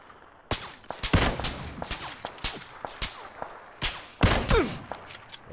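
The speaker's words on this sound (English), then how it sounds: "I think there's two people shooting at me right now" Enemy gunfire in PUBG, with irregular sharp shots from two shooters cracking at varying distances, some single and some in quick bursts, across a quiet background.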